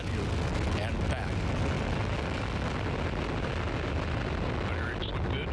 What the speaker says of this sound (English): And liftoff of OSIRIS-REx, its 7-year mission to boldly go to the asteroid Bennu and back.